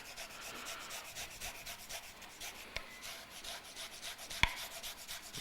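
Fresh ginger root scraped back and forth over a grater, a quiet, close, continuous rasping with even strokes and a couple of faint knocks, heard alone without talk.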